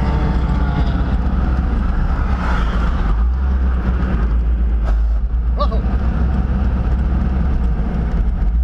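A C5 Corvette engine running after a clutch failure at Arizona Motorsports Park, a loud, continuous low rumble with brief shifts in tone and faint background noise.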